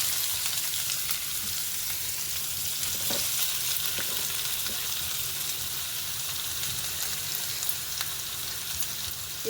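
Finely chopped onions fry in a pan of hot tempered oil for a tamarind-leaf and drumstick curry, making a steady, even, close hiss of sizzling with faint stirring scrapes and no voices.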